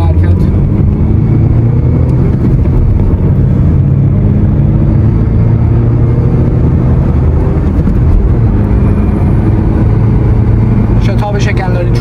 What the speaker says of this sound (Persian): همینجا یک تست شتاب تا 100 بزنیم در حال حرکت